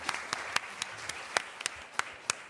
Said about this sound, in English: I think we can applaud.